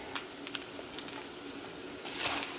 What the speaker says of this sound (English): Let's put our first one on. And it should sizzle when, see, it's supposed to sizzle